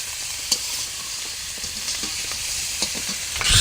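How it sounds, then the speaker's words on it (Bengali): Onion paste with ginger and garlic frying in hot oil in a wok, a steady loud sizzle with faint stirring scrapes throughout, no talk. "এবার কিন্তু কড়াই তেল দিয়ে পেঁয়াজ বাটা পড়ে গেল"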